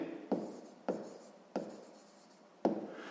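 A pen writes a sixth-grade math map-scale solution on paper, four distinct scratching strokes with short pauses between them, close and quiet with no voices.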